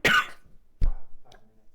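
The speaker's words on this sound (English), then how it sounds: "I have to cough." A person coughs in a short sharp burst, then gives two smaller coughs or throat clears, close and loud against near silence.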